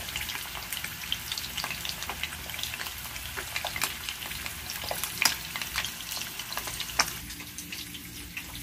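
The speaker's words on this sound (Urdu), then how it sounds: "اس لیے پہلے انڈے میں فرائی کر رہا ہوں" Eggs fry in a pan for egg curry with a steady, close crackling sizzle full of small pops and spits, continuous throughout and without talk.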